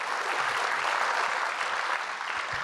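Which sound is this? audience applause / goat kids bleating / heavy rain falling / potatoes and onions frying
audience applause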